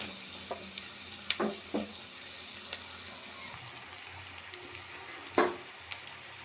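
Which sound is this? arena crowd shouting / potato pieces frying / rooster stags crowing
potato pieces frying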